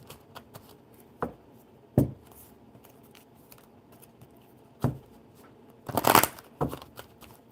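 Tarot cards being shuffled in several short bursts, crisp riffling and tapping sounds close by, with a louder flurry near the end and quiet pauses between.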